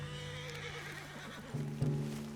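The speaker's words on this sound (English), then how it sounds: "What's wrong with this horse?" A horse whinnies and snorts nearby in Red Dead Redemption 2 over a steady low hum, with a louder neigh toward the end and faint hoof clops.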